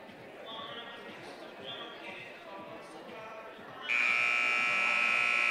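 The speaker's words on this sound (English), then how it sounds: "There is your final buzzer." The final buzzer sounds at the end of a high school girls' basketball game in a gym, a loud sustained electronic tone that cuts in abruptly after a stretch of crowd noise and court sounds and holds to the end.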